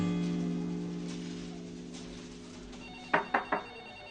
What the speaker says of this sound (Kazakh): Сүй Басеке, сіздің телефоныңыз